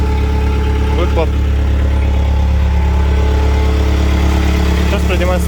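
A three-ton forklift engine idles loudly and evenly up close, a constant throbbing rumble with brief speech over it.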